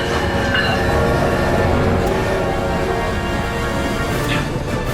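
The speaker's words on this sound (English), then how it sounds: "No, here comes the train!" A cartoon train rumbles steadily over the tracks with rattling wheels and faint clatter, loud and continuous, with no voices over it.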